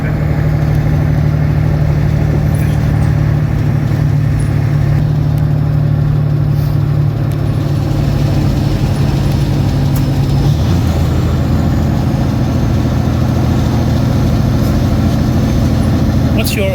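A Kenworth truck engine with an 18-speed gearbox rumbles steadily, its low drone shifting pitch midway as gears change, with people talking over the noise.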